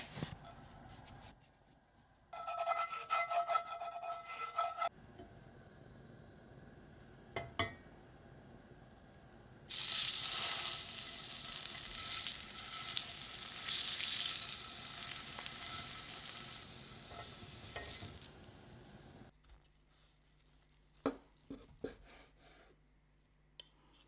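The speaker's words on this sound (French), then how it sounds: "c'est le faire griller un petit peu sur le tour. Tout simplement faire chauffer un petit peu d'huile." Seitan seasoned with paprika frying in a little hot oil, with quiet intermittent stirring and clinks before a loud burst of sizzling that runs for several seconds, then fades back to sparse taps.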